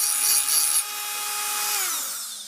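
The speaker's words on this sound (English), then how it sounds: "So with the Dremel, you could really have this done in 10 minutes." A Dremel rotary tool grinding the edge of a lawnmower blade gives a high, continuous whine that drifts slightly in pitch, close up and fairly loud, before tapering off.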